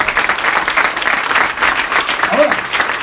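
A church congregation gives a strong burst of applause praising the Lord, steady clapping filling the whole stretch with a voice rising briefly near the end.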